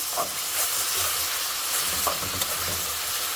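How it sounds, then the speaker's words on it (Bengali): Rohu fish fries in a spice paste with sliced tomato, giving a dense, continuous hiss and sizzle, with a few soft stirring knocks and no talking. "আমি এই মশলাতে মাছটা কষাবো"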